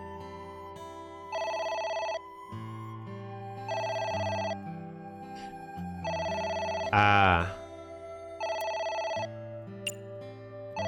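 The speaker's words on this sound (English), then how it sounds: "It's the phone. Maybe try picking it up?" Telephone ringing inside the video game Ghost vs AI: The Somnium Files, a repeating electronic ring in regular bursts over game music, with a brief voice interjection.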